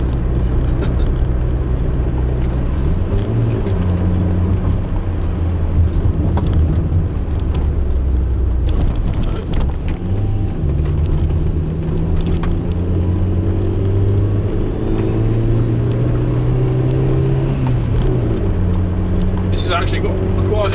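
A Nissan Sunny's engine pulls up a steep hill in second gear, a loud, steady interior drone whose pitch rises and falls with the revs, while someone talks over it.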